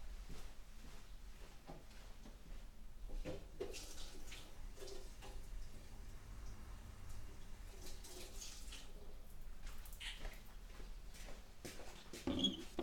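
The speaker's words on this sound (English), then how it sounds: "Let me put it under the tap." Tap water running steadily over an acrylic pour painting as it is rinsed, a soft continuous splashing hiss with small clicks and knocks throughout.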